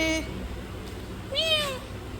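Two close meows from a male cat, a short one at the start and a longer rising-falling cry a moment later, with quiet background.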